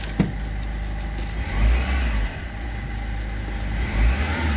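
A Ford Fiesta with a faulty ABS module and stored fault codes revs up as the accelerator is pressed, giving a loud, close mid-pitched engine roar that swells and eases a couple of times with no talk over it.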